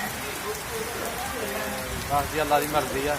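Heavy rain falls steadily in Punjab, a dense, continuous patter on surfaces close by, while someone speaks over it.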